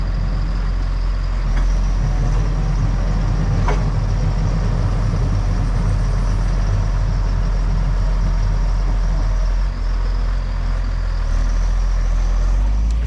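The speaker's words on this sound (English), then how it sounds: "if you're wondering why we're scraping that with the tractor" A tractor engine drones loudly and steadily close by while it scrapes dirt smooth on bike jumps, with a deep rumble and a faint rattle running through the whole stretch.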